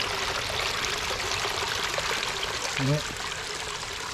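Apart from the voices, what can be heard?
water flowing down a garden pondless waterfall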